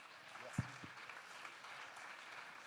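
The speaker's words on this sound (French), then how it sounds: "Francky, merci encore sous un tonnerre d'applaudissements." Audience applause at the opening of a national conference in Nantes, a faint, steady wash of clapping heard from a distance, with a brief low thump near the start.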